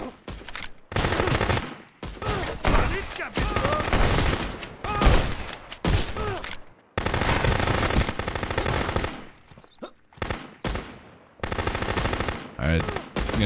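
Gunfire in the video game Contraband Police, with loud, dense bursts of automatic fire in several long volleys separated by brief gaps.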